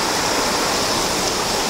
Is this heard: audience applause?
no